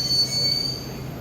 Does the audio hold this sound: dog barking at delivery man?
no